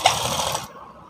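A sewing machine stitches an embroidered blouse piece in a short, fast whirring run lasting just over half a second, then cuts off, leaving quiet.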